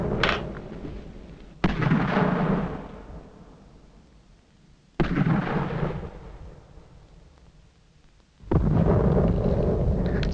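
Three heavy mortar bomb blasts land during a fort siege in a 1976 film, each a sudden loud boom followed by a long fading rumble, spaced a few seconds apart with no voices.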